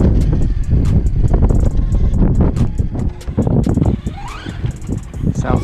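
A battered Traxxas Stampede 4x4 RC truck runs around outdoors, its motor whining with clattering and rattling under wind noise and some voices.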